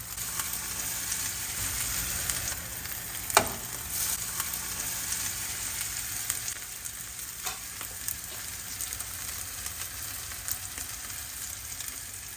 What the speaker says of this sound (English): we're going to let them fry on one side